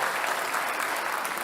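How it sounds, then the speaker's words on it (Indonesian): A studio audience at a televised Jakarta governor election debate applauds the two candidates, a dense, continuous wash of clapping at even loudness throughout. "Saya ingin kita kasih tepuk tangan untuk kedua kandidat yang hadir Mata Najwa di malam hari ini."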